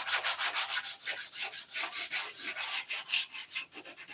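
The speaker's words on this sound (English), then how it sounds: "This is very fine sandpaper, so then I'll just go up around like that to kind of round it." A cut wooden top is rounded at the edge with very fine sandpaper in a steady back-and-forth rhythm, about a dozen even, raspy rubbing strokes, close up with no talk.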